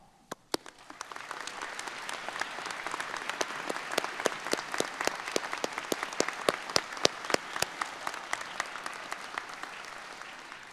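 An audience at a 2022 Western Piedmont Community College graduation ceremony applauds the standing faculty and staff with sustained, dense clapping that starts abruptly and holds steady to the end.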